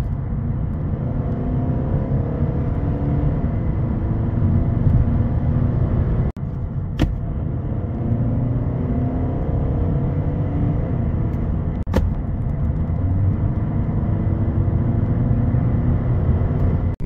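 An Audi A3 8Y 2.0 TDI 150 with an S tronic dual-clutch gearbox accelerates on the road, its diesel drone and tyre rumble steady and loud from inside the cabin, with two sharp clicks partway through.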